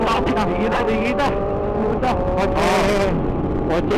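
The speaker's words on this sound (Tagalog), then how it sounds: "Kotse. Dami." Cars whoosh past one after another on a busy road, heard from a CBR1000RR-SP2 motorcycle, with a steady engine drone and wind noise underneath.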